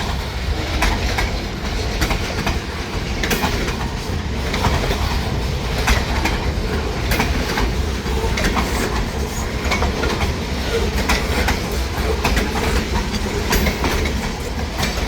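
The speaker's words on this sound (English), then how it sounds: "Yeah, this train snuck into Ultra Metal on Saturday." A train rolls past on the rails in a small town, loud and close, with continuous rumble and a steady clickety-clack of wheels over rail joints and occasional faint squeals, no voices.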